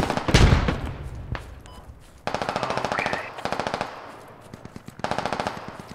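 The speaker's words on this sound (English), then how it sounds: "We got enemy shooting from south towards north somewhere." Bursts of automatic machine gun fire in the military shooter game Squad, several rapid rattling strings separated by short pauses, loud and close, following an initial heavy blast.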